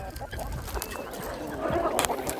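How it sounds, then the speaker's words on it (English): A very tall rooster on a farm keeping rare birds clucks in short, soft bursts close by, over a steady background of farmyard noise. "Tallest chicken in the world right here."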